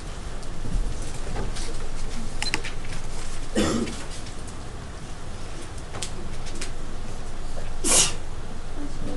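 In a math classroom, a sharp sneeze bursts out against the steady hum of the room, and a second brief noisy burst follows a few seconds later.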